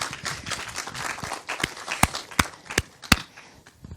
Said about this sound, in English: maybe we can congratulate Ruben and give him some applause for the movie